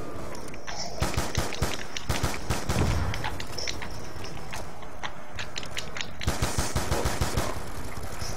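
Rapid gunfire rattles through a zombie match in Call of Duty Black Ops 2, with dense overlapping shots and bursts filling the whole stretch, loud and continuous with game noise underneath.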